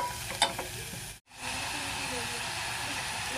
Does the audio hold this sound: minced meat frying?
yes